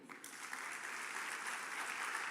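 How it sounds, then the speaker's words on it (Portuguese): Church congregation applauding during an evening family worship service, a steady, even wash of many hands clapping throughout, fairly distant and moderate in level with no voices over it. "Dê um aplauso ao Senhor."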